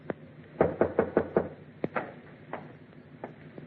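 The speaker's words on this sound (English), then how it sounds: "waited for your knock on my door, Commodore." A knock on a wooden door in an old-time radio detective drama: one tap, then a quick run of five sharp raps, followed by a few slower, softer knocks, close and clear with no talk.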